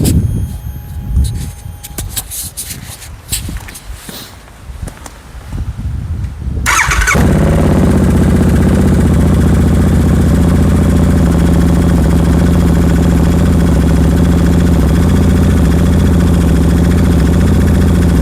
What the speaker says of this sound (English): So yeah, let's do a cold start now.